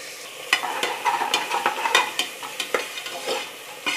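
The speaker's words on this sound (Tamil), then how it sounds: "வெங்காயம் நல்லா கலர் மர அளவுக்கு வதக்கியாச்சு." Onions sauté in a pan for drumstick leaves biryani, with a soft steady sizzle broken by repeated sharp scrapes and clicks of stirring at an uneven rhythm, fairly close and alone.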